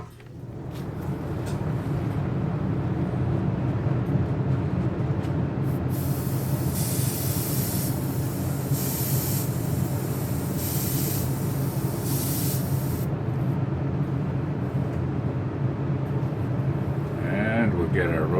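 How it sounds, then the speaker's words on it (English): A spray booth fan runs with a steady, loud broadband whoosh and hum that starts within the first second and holds continuously, with intermittent bursts of hissing spray layered over it partway through. "get our fan going in the spray booth."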